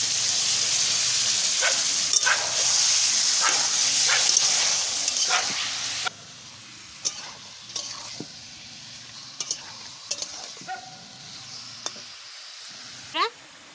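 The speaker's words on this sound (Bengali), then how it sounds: "এবারটা আমি মাংসটা দিয়ে দিচ্ছি" Mutton frying in oil with spices, a loud, hissing sizzle with scattered scraping stirs that suddenly quietens midway into a softer crackle with occasional clinks and a brief voice near the end.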